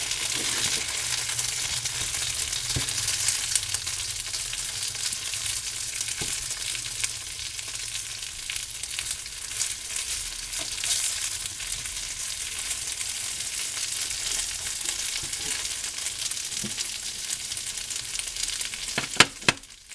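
Sausage crisping in a pan, a constant close hiss of frying fat with occasional small pops and clicks of turning, no talking.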